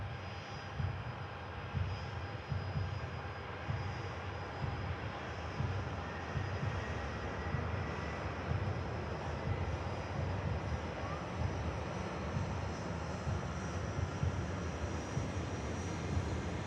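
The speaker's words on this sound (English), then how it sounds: "Here goes the Ryanair." Ryanair jet airliner taking off at Manchester Airport, a broad, sustained engine roar that stays loud and steady throughout, with no clear voices over it.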